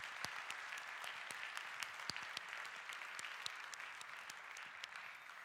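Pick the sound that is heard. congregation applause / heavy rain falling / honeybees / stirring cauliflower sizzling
congregation applause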